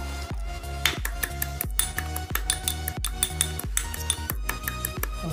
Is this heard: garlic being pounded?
yes